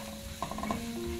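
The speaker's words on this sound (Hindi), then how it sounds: "एक मीडियम साइज का प्याज चॉप्ड है उसको ऐड कर दिया। उसको हम फ्राई करेंगे।" Chopped medium onion fries with garlic and ginger powder in a pan: a soft, continuous sizzle with a brief clatter of stirring in the middle, short and fairly quiet.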